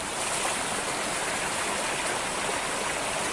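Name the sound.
flowing river on a hiking trail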